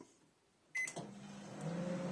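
A microwave oven starts up with a click and beep, then settles into a steady low hum as it heats Tikka Masala curry paste in a lidded dish.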